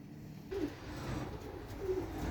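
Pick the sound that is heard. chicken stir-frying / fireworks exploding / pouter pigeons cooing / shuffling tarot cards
pouter pigeons cooing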